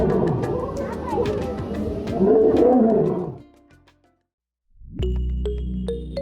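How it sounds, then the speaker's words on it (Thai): A lion roaring, deep rumbling groans that rise and swell for about three seconds before fading, heard close and loud, then a separate tonal hum cuts in after a short pause. "เสียงคำรามของสิงโตสามารถได้ยินในระยะทางไกลๆ"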